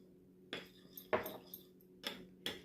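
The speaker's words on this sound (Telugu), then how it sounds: "ఈ నిమ్మరసం తీసుకొని అందులో కొంచెం ఉప్పు, కొంచెం వాము కలుపుతాం" Metal spoon clinking against a bowl while lemon juice is mixed with salt and ajwain, four or five bright taps in an irregular rhythm, close and quiet with nothing else around.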